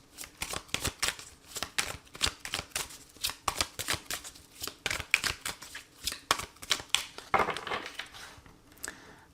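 Tarot cards being shuffled by hand up close: a quick series of crisp riffling and slapping bursts, rapid and irregular, fairly quiet, with no talking.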